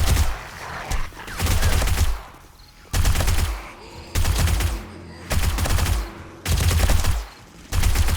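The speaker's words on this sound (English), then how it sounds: "So this is the gun that I was eventually sort of hoping to get heading down the pistol tree anyway" A gun from the pistol skill tree fires in loud, rapid bursts in 7 Days to Die (Alpha 19) during a day 70 horde night. There are about six sustained volleys of a second or so each, separated by short quieter gaps, with no talking.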